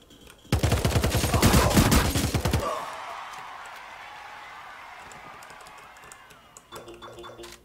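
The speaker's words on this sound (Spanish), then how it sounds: "Se ha habido disparos, ¿no?" A rapid burst of gunfire in the battle royale game Radical Heights, dense and loud for about two seconds, then fading into a low ambient rumble with a few faint clicks.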